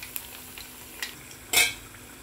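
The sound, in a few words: onion vada frying in oil while being stirred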